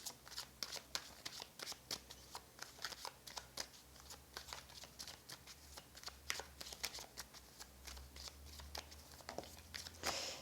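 Tarot cards being shuffled close up, a steady run of quick papery flicks and riffles that continues without a break and without any talking.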